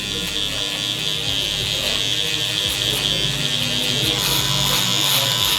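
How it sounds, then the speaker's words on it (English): Electric shaver buzzing steadily and close while lightly shaving hair during a burst fade haircut, a continuous bright hum with small shifts as the blades move over the scalp. "The last step is gonna be to shave very lightly."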